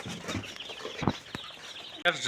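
Layer hens cluck softly in the background, a few short calls scattered over low ambient noise, with one louder abrupt burst near the end.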